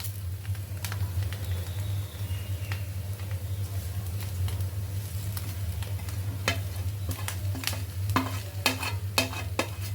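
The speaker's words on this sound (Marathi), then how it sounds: "आता आपण जो कांदा भाजून बाजूला ठेवला होता तो यात मिक्स करायचा आहे" Roasted onion is stirred into green chickpea usal in a frying pan: a constant low sizzle runs under repeated spoon scrapes against the pan, which grow quicker and sharper toward the end.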